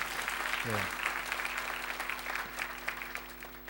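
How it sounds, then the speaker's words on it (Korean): A church congregation applauds a newlywed couple standing at the front, a moderate, fairly distant patter of clapping with a low hum and faint voices underneath. "이 박수는 경건한 후손을 많이 놓으라는 축복의 박수입니다"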